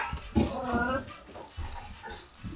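A puppy whimpers and whines in short high-pitched bursts close by, mixed with a person speaking over it in a home setting.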